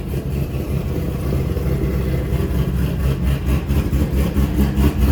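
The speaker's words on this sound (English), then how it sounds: "sound of a Cam LS" A cammed LS V8 idles close by, a loud, deep rumble with the choppy, lopey pulse of an aggressive cam, steady and unbroken, with no talk over it.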